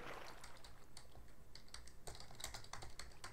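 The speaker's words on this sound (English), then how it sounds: "I hate typing this name each time" Rapid clicking keystrokes on a computer keyboard during a Minecraft session, a steady run of light taps with brief pauses, close and fairly quiet.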